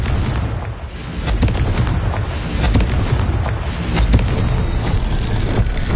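A rumbling, booming blast from the Confringo fire spell in the Hogwarts Legacy video game, a broad loud roar that swells and lingers for several seconds with no talking.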